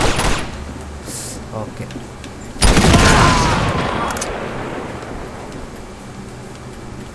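Gunfire from the PS4 remaster of Uncharted 2: Among Thieves, with one loud, sharp blast that rings out and decays slowly after a quieter stretch, and a player's voice speaking briefly over the game sound.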